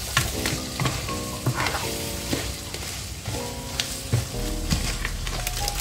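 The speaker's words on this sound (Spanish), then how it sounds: "Y lo vamos a estar friendo aquí por unos 5 minutos." Paella ingredients sizzle and fry in a pan while a spoon scrapes and stirs them, giving a steady hiss broken by repeated close scraping strokes, with no voices.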